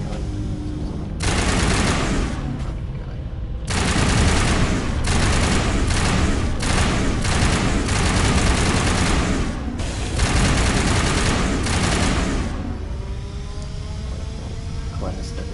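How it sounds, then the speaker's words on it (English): Geth gun fired in the Mass Effect video game: loud, sustained bursts of rapid gunfire repeat almost continuously over roughly eleven seconds, with brief gaps between volleys and a quieter stretch after they stop. "This is the Geth gun."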